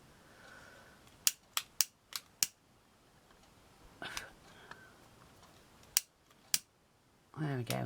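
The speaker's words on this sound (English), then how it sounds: "I'm just going to trim that a little bit." Scissors trim a paper flower for a shabby-style craft. Crisp, close snips come in a quick run of five, then a few more spaced out over a quiet background, with soft rustling near the end.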